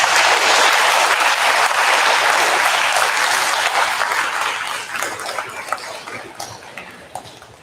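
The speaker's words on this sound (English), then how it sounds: "I'd like to give your teachers a round of applause right now." A school audience claps loudly for teachers at a 6th grade awards ceremony, dense applause at full strength that gradually thins and fades over several seconds.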